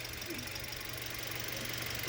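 A Toyota Avanza engine idles quietly with a steady, even hum and low rumble, close and continuous, while people talk over it.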